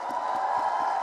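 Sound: audience applause and cheering

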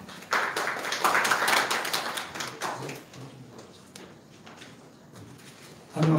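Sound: audience applause welcoming a speaker

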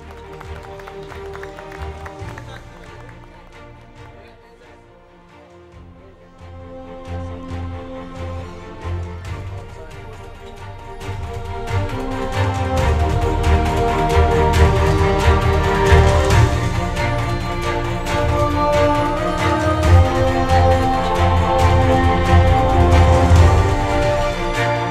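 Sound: audience applause sending off award winners

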